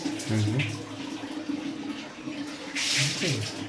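Water splashes and runs steadily nearby as someone bathes, with a louder surge of water near the end. Brief voices speak over it.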